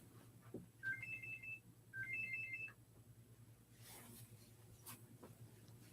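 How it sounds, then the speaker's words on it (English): A mobile phone ringtone plays two short rising melodic phrases of bright electronic beeps, fairly close, over a low steady background hum, then stops and leaves quieter room noise. "my phone's going off"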